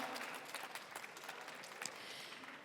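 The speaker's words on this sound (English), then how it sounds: "Please give him a big round of applause" An audience at a startup demo day stage applauds a pitch, a dense, steady wash of many hands clapping that stays even and moderately distant for the whole stretch.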